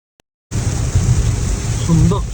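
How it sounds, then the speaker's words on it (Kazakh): Heavy tropical downpour in Hawaii, loud dense roaring rain that starts abruptly after a moment of silence and continues steadily, with faint tonal sounds near the end. "Сұмдық жаңбыр жауып жатыр"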